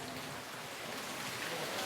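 Steady rain falling through a daytime outdoor gathering, a continuous soft hiss of drops on surfaces with no breaks, moderately quiet and unaccompanied by speech.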